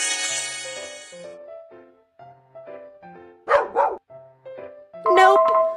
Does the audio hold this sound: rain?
no